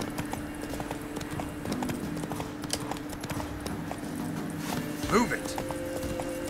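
Steady clip-clopping hooves of a running horse in the video game The Witcher 3: Wild Hunt over a continuous background hum, with a brief spoken line from a man partway through.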